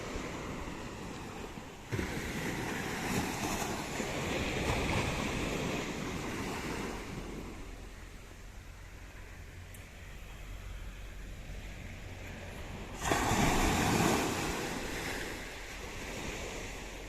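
Sea waves wash onto the shore in a continuous roar, with stronger surges breaking near the start and again toward the end, mixed with wind.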